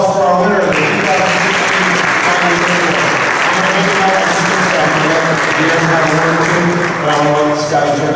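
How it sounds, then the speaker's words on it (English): An awards ceremony audience applauds the 2016 Guy V. Lewis Award winner, loud sustained clapping blended with music underneath, steady throughout with brief crowd voices. "Another round of applause for our winner of the 2016"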